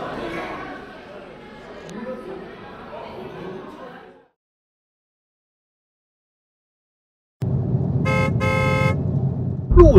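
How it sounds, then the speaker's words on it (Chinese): Car horns honk in a traffic jam, a loud burst of tooting over low engine rumble near the end. It comes after talking voices and a stretch of silence. "路上堵车，堵得厉害呀！"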